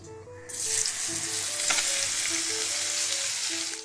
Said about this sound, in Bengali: সর্ষের তেলটা গরম হয়ে গেছে এবার আমি শুকনো লঙ্কা পাঁচ ফোড়ন ফোড়ন দিয়ে দেবো